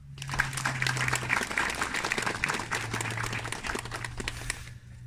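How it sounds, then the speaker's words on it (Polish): A crowd applauds warmly at the outdoor unveiling of a monument to the Kraków Army airmen in Klimontów. The clapping is dense and even for about five seconds, then tapers off, with a low steady hum underneath. "w sposób szczególny proszę o gorące dla nich brawa"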